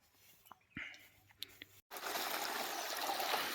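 Water gushing under pressure from a CRI 3 HP solar pump at a farm well, a steady loud broadband rush that begins abruptly after some quiet handling noises and a faint voice.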